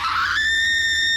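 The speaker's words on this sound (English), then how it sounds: "She just died screaming?" A banshee character in Borderlands 3 lets out a loud, shrill scream as she dies, starting as a harsh, noisy shriek and settling into a sustained piercing tone that holds to the end, with no talk over it.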